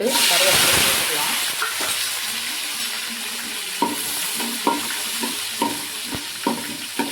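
Onion, garlic and curry leaves fry in hot oil for a fish curry: a dense, steady sizzle close by, with a few sharp utensil clicks of stirring in the later seconds.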